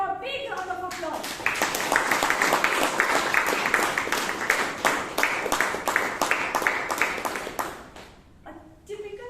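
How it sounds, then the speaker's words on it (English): At a Bangalore Toastmasters meeting, the room bursts into a big round of applause, brisk hand clapping from a moderate crowd lasting several seconds, framed by a speaker talking before and after. "Can we have a big round of applause?"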